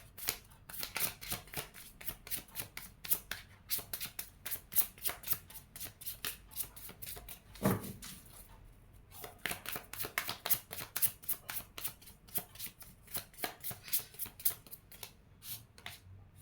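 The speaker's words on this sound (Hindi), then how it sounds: "my last shuffle" Tarot cards are shuffled by hand in quick, repeated riffling bursts, close and crisp, with one short pause before the rapid flutter continues.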